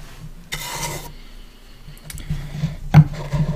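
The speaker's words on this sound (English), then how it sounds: "We'll only turn the box and make some noise with the" Brush scraped across a wooden box, producing a short raspy rub burst followed by quieter scratching and a few soft knocks and taps, close and intimate with no talking.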